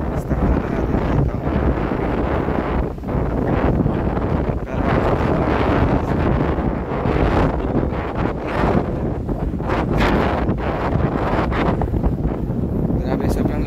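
Powerful wind at the Bangui windmills roars into the microphone in a loud, continuous low buffeting rumble, with a voice faintly talking under it.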